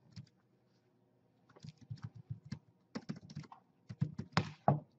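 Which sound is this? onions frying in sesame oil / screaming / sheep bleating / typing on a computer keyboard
typing on a computer keyboard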